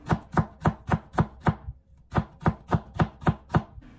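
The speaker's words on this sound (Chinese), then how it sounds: "在切的时候同样要求，不求你切的有多细，但求切的均匀一点就可以了。" A knife chopping potato into shreds on a cutting board, a quick, even series of close, crisp thuds, six strikes, a brief pause, then seven more.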